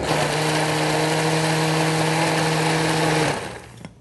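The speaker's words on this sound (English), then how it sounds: "So just blending it so it's nice and smooth." A blender whirs steadily as it blends batter to a smooth, pancake-batter consistency. The motor whine runs loud and continuous, then cuts off shortly before the end.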